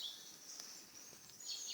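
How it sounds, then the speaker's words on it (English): Birds chirp softly in a forest, thin high calls repeating faintly over a quiet background, with a slightly louder burst of tweets near the end. "Birds are chirping."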